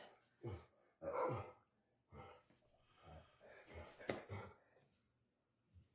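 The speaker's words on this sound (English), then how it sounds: "Don't mind the dog." A dog barks, woofs and snorts in several irregular bursts, loud and close, with quieter breathy sounds and pauses between.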